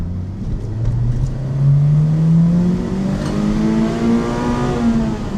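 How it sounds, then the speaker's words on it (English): An old Honda car engine revs steadily upward toward the rev limiter, one rising pitch sweep that climbs and holds loud and close inside the car, with faint other voices. "I'm just scared of hitting the rev limiter."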